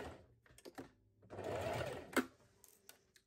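A sewing machine stitches a reversible fabric tote bag with a few forward stitches and a backstitch: short, close bursts of rapid needle clatter, then one steady run and a sharp click.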